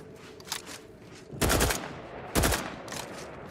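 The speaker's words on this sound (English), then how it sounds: "This is the compact assault rifle." A compact assault rifle firing in The Outer Worlds 2, several short bursts of loud gunfire separated by brief pauses, with the two middle bursts the heaviest.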